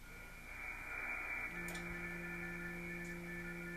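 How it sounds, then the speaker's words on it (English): Morse code on the HF band received through an RTL-SDR, faint steady tones over hissing radio static, with a lower carrier tone joining partway and no voices. "You can hear the Morse code in there."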